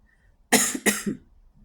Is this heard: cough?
yes